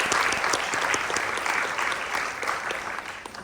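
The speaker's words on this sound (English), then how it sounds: "We'll give him a round of applause" A seated audience at a BlackStar Q&A event applauds warmly to welcome the moderator, with dense, close clapping that holds steady and then slowly fades.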